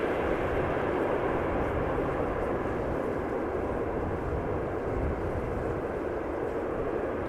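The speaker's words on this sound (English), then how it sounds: "777-300 arriving from Johannesburg." A Boeing 777-300 arriving at Amsterdam Schiphol from Johannesburg gives a loud, steady broadband jet roar that holds for the whole stretch with no voices.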